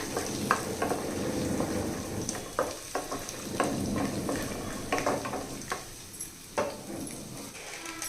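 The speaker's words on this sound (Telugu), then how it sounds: "పల్లీలు వేసిన తర్వాత కొంచెం వేగనివ్వాలండి పల్లీలకి ఈ అల్లం ముక్కలకి కొంచెం వేగడానికి టైం పడుతుంది" Peanuts and ginger pieces fry in a pan with a steady sizzle, broken by scattered stirring clicks and scrapes throughout, with no talking.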